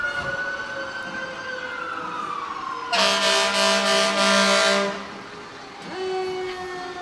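Bell County volunteer fire department trucks roll past in a Middlesboro Christmas parade, sirens wailing and sliding in pitch while a loud air horn blasts for about two seconds midway, close and strong.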